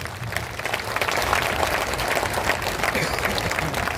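A large crowd at a political party founding convention in Patna applauds, dense sustained clapping that fills the whole stretch, loud and close, with voices mixed in.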